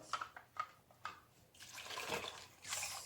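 Milk poured into a Jamaican-style bread pudding mixture with rum raisins and stirred in a bowl, giving a few soft liquid taps and splashes followed by a steadier wet swishing and pouring sound up close.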